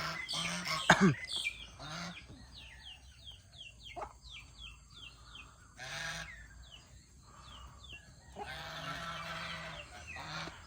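Chickens at morning feeding honk and cluck in scattered bursts, some near and loud, others fainter, with squawks overlapping and no talking.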